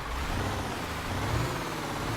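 In a trucking video game, the default truck engine starts and runs with a loud, steady rumble heard from outside the cab, with no voices.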